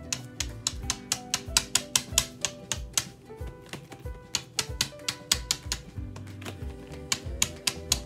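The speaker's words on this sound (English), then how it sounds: "I'm going to get to tap all over my paper with that" Rapid dry taps of a paint-dipped corn cob striking paper during messy art painting, a rhythmic run of sharp close knocks in quick bursts with a brief pause midway.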